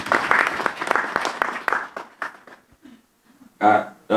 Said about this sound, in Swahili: Tumpigieni makofi mengi sana mkurugenzi.